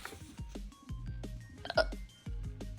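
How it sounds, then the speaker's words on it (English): A cartoon elephant hiccups in a children's storybook scene, with several abrupt hiccup bursts landing over a busy musical underscore. "I can cure those hiccups"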